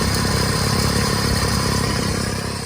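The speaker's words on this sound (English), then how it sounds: "I'll zoom in so that we can have a listen to that engine and see the belts running" Steady 3-liter inline-six engine of a 2005 Ford Mustang GT idling, with belts and fans turning, a dense even mechanical hum and light clatter, close and loud throughout.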